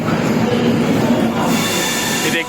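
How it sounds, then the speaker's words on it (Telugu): Train number 20947 pulls into Vadodara station with a steady, loud rumble of wheels and carriages, and a faint high squeal creeps in near the end. "ట్రైన్ అయితే వచ్చేసింది."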